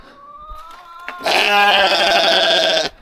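On a farm, a lamb lets out one loud, wavering bleat lasting over a second, preceded by quieter background noise.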